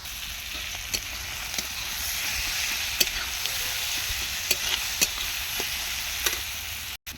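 Onion and chopped capsicum fry in hot oil with a steady, close sizzle, broken by occasional sharp clicks of stirring against the pan.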